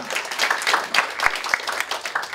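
Forum audience at a community forum claps to welcome a speaker, a moderate burst of many hands with some distinct individual claps, fairly even and somewhat distant.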